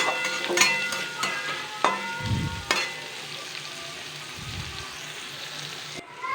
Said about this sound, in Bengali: গ্যাসের ফ্লেমটি আমি একটু লো রেখে ভালো করে এটিকে এখন কষিয়ে নেব